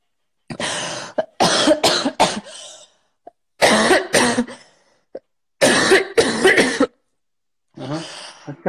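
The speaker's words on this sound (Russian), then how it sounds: "Откашляй, откашляй." A young woman coughs in several harsh, close bursts in an indoor setting, with short gaps between the fits and a final rough cough at the end.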